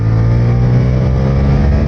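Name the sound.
Suzuki GSX-8S motorcycle engine on a race track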